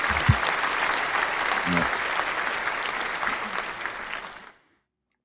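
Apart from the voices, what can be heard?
applause, clapping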